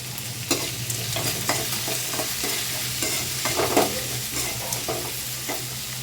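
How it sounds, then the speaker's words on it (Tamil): Onion and tomato sizzle as they are sautéed in a pan, with a steady frying hiss and repeated scraping stir strokes of a spatula, close up and without talk. "வெங்காயமும் தக்காளியும் நல்லா வதங்கிருச்சு"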